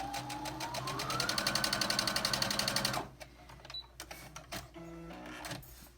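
A sewing machine stitches a quilt block seam in a fast, even run of needle strokes for about three seconds, its motor whine rising slightly before it stops, followed by faint handling clicks and rustles.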